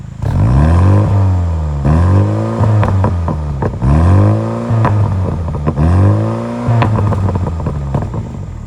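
A Mini JCW Clubman's exhaust is revved hard several times in quick succession, each loud rise in engine pitch dropping back before the next, close by with no talking.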